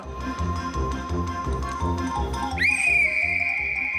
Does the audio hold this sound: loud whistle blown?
yes